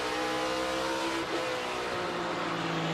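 A NASCAR race car driven by Chase Briscoe on pit road at the Toyota Owners 400: a steady, loud engine drone with a brief dip and shift in pitch midway.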